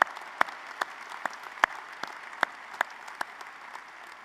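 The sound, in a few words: applause at a commencement ceremony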